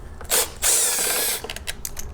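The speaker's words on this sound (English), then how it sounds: "So let me grab my wrench over here. Break it loose." A wrench breaks loose a stubborn bolt on a Generac GP3000i generator, heard as a short, loud ratcheting burst and a sustained metallic grind, then a few lighter clicks close by.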